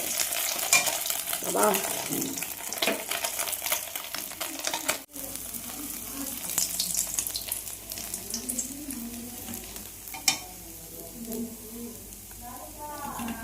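Iced fish fries in a pan with a crackling sizzle and stirring scrapes, then utensil clatter and some running water, while a person speaks briefly over it.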